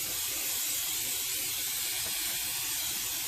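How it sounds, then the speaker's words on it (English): Cooking spray hisses steadily and loudly at close range as it coats the sides of a tube cake pan for a butter pecan cake, one unbroken burst with no talking. "I spray the sides really good"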